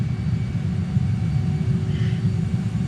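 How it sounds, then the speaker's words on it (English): A JAS-39 Gripen jet on the runway roars steadily under reverse thrust as the throttle comes up, a loud, continuous low rumble with a faint whine above it. "Reverse thrust and throttle up."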